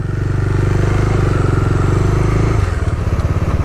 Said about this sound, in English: finally we have a motorcycle